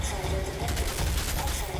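Technomancer turrets in the Outriders video game fire rapid, steady automatic bursts in a dense, close rattle that runs without pause.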